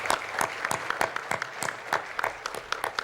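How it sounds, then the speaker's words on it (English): An audience at a fall gathering gives a collective round of applause for its trustees, with moderately loud, irregular individual claps ringing out over a softer crowd wash. "I want to give them a collective round of applause for what they do for"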